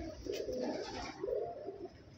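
A green cheena pigeon coos nearby in two soft, throaty rolling phrases, fairly quiet and with no other sound around it.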